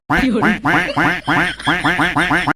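A duckling quacks loudly and close in a rapid run of about eight harsh, evenly spaced bursts.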